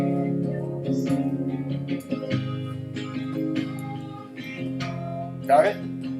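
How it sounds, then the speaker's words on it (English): Strummed acoustic guitar chords run through a modulation chorus effect, giving a shimmering, softened attack, played alone and close for a few seconds. "you can add modulation chorus. It sounds like this."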